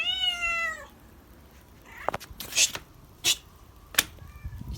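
A cat meows loudly up close on a balcony with a drawn-out harmonic cry, followed by a few shorter meows and sharp hissy bursts; no speech.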